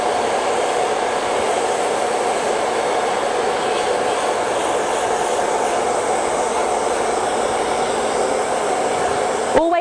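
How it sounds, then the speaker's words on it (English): A hair dryer runs loud and close without a break, a constant broadband whoosh as short hair is blow-dried section by section, with no talking over it. "take your first section and we're just blow drying it"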